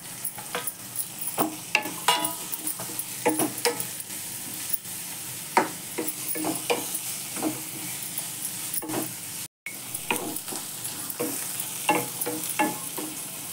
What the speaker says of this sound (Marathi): काही सगळंच घालून टाकते आणि परतून घेते चांगलं